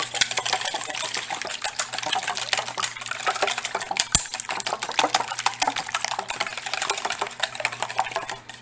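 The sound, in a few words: whisking eggs with a whisk for gnocchi dough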